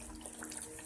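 Water and cornstarch slurry poured slowly into chicken curry in a pan, a soft, steady trickle of liquid heard up close with no talk.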